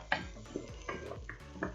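A spoon stirs red kuri squash in a cooking pot, giving about five soft, irregular knocks and scrapes against the pot's sides. The sounds are quiet and close.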